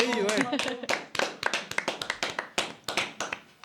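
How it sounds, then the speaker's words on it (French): Audience applause at a live French film-review show, a burst of close, uneven hand clapping with sharp taps, opening over a brief voice before the clapping carries on alone. "J'observe que Alexandre n'a pas applaudi"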